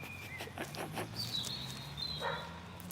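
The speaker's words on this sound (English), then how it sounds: "can't you hear your fucking dog barking?" A dog barks in a short series of sharp, moderately distant yaps, with faint background noise and no talk.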